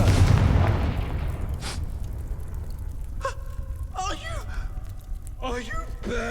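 A Confringo blasting curse explodes in the Hogwarts Legacy video game with a loud, low booming blast that rumbles and decays, followed by brief whooshing spell effects and gasping voices.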